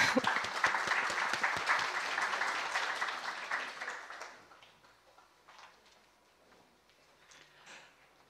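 An audience at a seminar claps in steady, fairly dense applause for about four seconds, then it thins out to scattered faint claps and quiet room noise.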